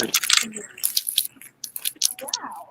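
Crisp snapping and crackling of dry rice noodles being broken apart by hand in a home kitchen, a quick series of sharp cracks up close with brief pauses between breaks.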